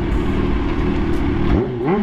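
Vespa scooter fitted with a Kawasaki ZH2 engine revs hard and close, a dense sustained roar that dips then climbs in pitch twice near the end.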